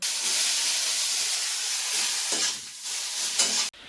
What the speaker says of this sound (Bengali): তো এই যে দেখো শিম ভাজবো, কি গরম দেখো শিমগুলো।